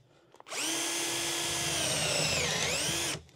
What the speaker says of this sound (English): We can drill a hole a certain distance in from the board in both directions